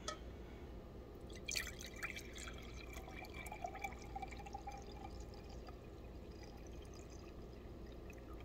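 Water is poured slowly into a cup, a faint, quiet trickle with a few soft drips and splashes near the start, then a thin continuous flow with no talking.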